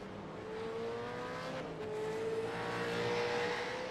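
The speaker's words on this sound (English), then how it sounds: "Just listening to the engines and trying to hear any differences in throttle shaping out of the chasers" Race car engines in the iRacing game at Bathurst 1000 hold a steady high drone, a single sustained engine tone shifting slightly in pitch, moderately faint with no voices.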